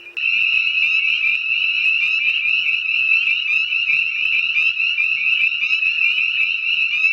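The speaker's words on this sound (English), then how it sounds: "Let's take a moment to listen to the spring peepers peeping at the Ozark Natural Science Center pond." A dense chorus of spring peeper frogs calls at the Ozark Natural Science Center pond, a continuous high shrill peeping that stays loud and steady throughout.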